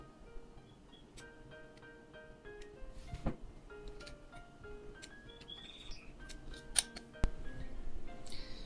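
Scallion pancake dough is cut with scissors, producing faint, sparse snips and small clicks at close range in a quiet kitchen.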